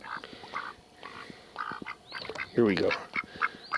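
A pet duck named Mr Quackers quacks excitedly as he gets into the water, a quick run of sharp, close quacks over soft background, with someone speaking briefly just before.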